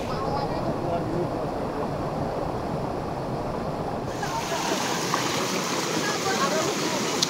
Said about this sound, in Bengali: কি সুন্দর একটা ছোট্ট ঝর্ণা।